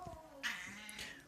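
A fat cat sitting on a toilet gives a few soft, drawn-out meows, faint and fairly close, with quiet room noise between the calls.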